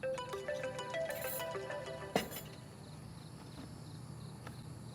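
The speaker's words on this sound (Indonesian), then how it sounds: "Rum, itu papa yang telepon, nak" A mobile phone ringing with an incoming call, a tonal ringtone melody repeating over the first couple of seconds at moderate volume indoors, then stopping abruptly with a soft knock, leaving quiet room tone.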